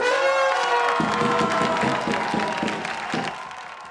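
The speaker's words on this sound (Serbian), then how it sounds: "Aplauz!" Audience at a film event breaking into applause and cheering, a dense crowd roar with clapping that slowly fades over a few seconds, a shouting voice heard above it at the start.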